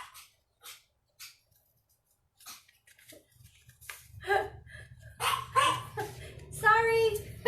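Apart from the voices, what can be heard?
dog barking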